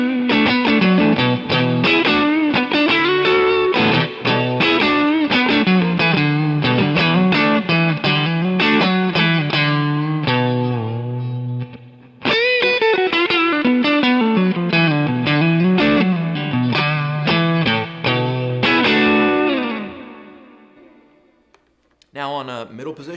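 A Stratocaster's neck pickup plays through a Steel String Singer amp profile, giving a loud, sustained lead with gliding bends and a short pause midway before the final notes ring out and fade.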